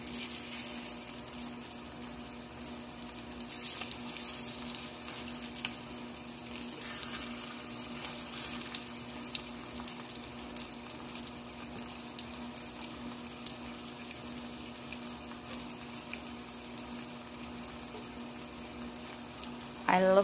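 Plantains frying in oil in a pot for a Jamaican breakfast, giving a steady, close sizzle that runs unbroken under a faint kitchen hum.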